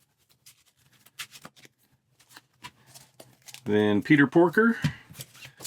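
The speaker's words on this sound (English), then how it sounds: "shuffle the encounter deck" A deck of game cards for the Marvel Champions card game being shuffled, a run of soft riffling rustles and crisp flutters in short bursts, close, followed by someone speaking.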